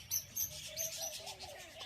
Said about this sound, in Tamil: ஃபுல்லாக வந்து லவ் பேர்ட்ஸ் வந்து நல்லா பெரிய கூண்டாக வந்து கட்டி விட்டுருக்காங்க.